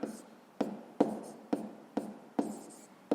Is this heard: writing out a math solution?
yes